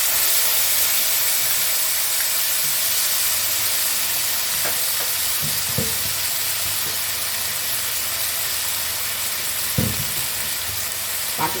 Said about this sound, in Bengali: সবজিগুলো ভাজা হয়ে গেছে, মশলাগুলো দিয়ে দিচ্ছি এর মধ্যে।